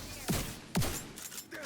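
Two sharp gunshots from the video game The Division 2 crack close and loud about half a second apart, followed by quieter background game noise.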